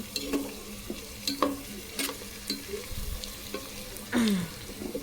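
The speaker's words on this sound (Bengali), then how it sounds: "পেঁয়াজগুলো ভালো করে ভেজে নিচ্ছি" Sliced onions frying in a pan, a close sizzle broken up by sharp scrapes and clacks of stirring at irregular intervals, with no one speaking.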